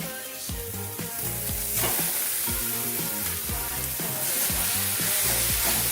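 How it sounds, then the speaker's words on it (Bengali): Fish frying with chilli powder and cumin in a pan, a steady loud sizzle with repeated scraping strokes of a spatula stirring the mixture, no voices. "এবার মাছ দিয়ে মশলার সাথে খুব ভালো করে কষিয়ে নেব"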